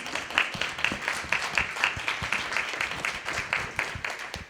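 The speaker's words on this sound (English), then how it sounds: "If you give them a round of applause." Audience applauding interns at a Maryland Korean-American civic association summer internship graduation and scholarship ceremony, a scattered round of hand claps with distinct individual claps, moderately loud and steady.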